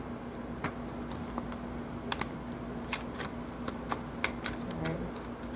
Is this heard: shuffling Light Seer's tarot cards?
yes